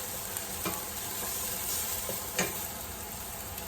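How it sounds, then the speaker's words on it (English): Vegetables sauté in a little olive oil, a constant close sizzle stirred with a wooden spoon, with a couple of soft knocks and scrapes over the hiss and no talking. "I'm just sauteing everything in that little bit of olive oil"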